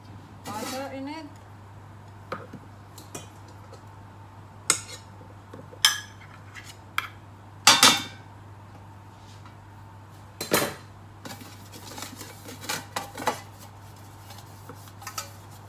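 A baking pan for banana bread is handled and greased with butter: sparse metallic clinks, knocks and scrapes of the pan and utensils, with a low steady hum beneath and a voice speaking at the start.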